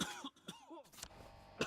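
A character coughs and clears their throat in the video game We Happy Few, a few short rough bursts heard close and fairly faint with no talk.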